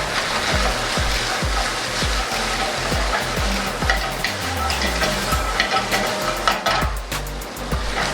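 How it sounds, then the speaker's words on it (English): Cornstarch-coated lobster pieces fry loudly in a pan, a dense, steady sizzle with repeated low knocks and scrapes as the pieces are moved and flipped, growing crackly and bright toward the end; no voices. "Now the best part, adding the lobster, which has been coated in cornstarch."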